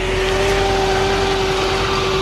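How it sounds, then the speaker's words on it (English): A 2004 Chevy C5500 rollback truck engine runs at a raised, steady high idle with the PTO engaged, a constant whine riding over the rumble, close and loud throughout. "You hear the high idle kick up automatically"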